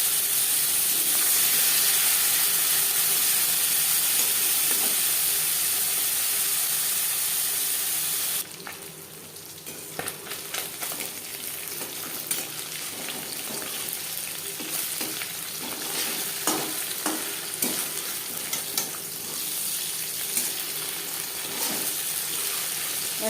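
Steady sizzling of hot mustard oil, then small mourola fish rubbed with salt and turmeric drop into the pan and the frying turns to loud, crackling spatter that continues throughout.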